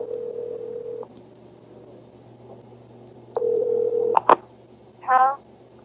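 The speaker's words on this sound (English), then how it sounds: "places the call to the pay station number" A call to a pay phone is dialed on a telephone: a steady dial tone, then a pause and a second tone, followed by quick dialing beeps and a short warbling ring, all clear and close.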